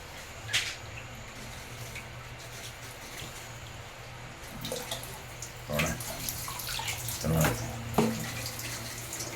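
Water runs steadily into a container with a low, continuous rush, along with occasional clunks and splashes nearby.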